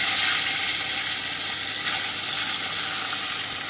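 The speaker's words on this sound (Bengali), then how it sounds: "এবারে আমি ম্যারিনেট করে রাখা মাছগুলোকে দিয়ে দিচ্ছি।" Marinated katla fish slides into hot oil in a kadai and fries with a loud, steady, close sizzling hiss that barely changes throughout, with no voices.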